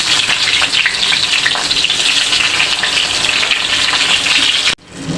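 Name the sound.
pointed gourd (potol) slices frying in oil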